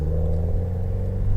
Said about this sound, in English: But that exhaust note makes up for it